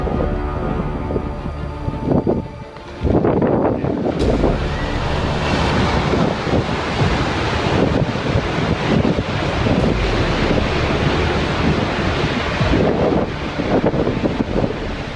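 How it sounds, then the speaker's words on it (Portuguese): Strong wind roars over a deep, rumbling wash of ice crashing against rocks from a collapsing glacier in the French Alps, loud and continuous with gusty surges throughout. "O ruído do vento e os sons do gelo batendo contra as rochas deixam tudo ainda mais épico."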